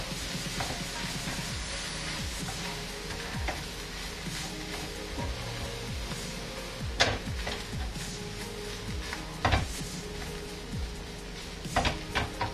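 Tuna pieces cook in a pan with a powdered spice mixture, giving a steady soft sizzle with occasional scraping and stirring knocks from a utensil against the pan.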